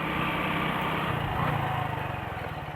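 A motorcycle engine in second gear labours steadily as the bike climbs a hill, a close, continuous buzzing drone with a pulsing low throb that stays loud throughout.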